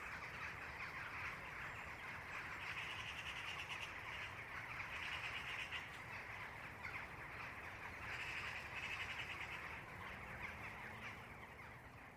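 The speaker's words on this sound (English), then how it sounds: "We'll close with the birds going to bed at High Ash." Birds settling to roost at dusk at a farm, a dense continuous wash of chirping and calls with occasional wing flaps and cooing, steady and fairly distant throughout.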